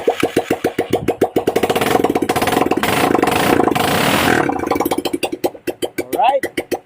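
A converted 175cc TMX Alpha motorcycle engine fitted with a new exhaust runs close up, with rapid, steady firing pulses that swell into a dense roar mid-clip before settling back to a sharp, regular idle.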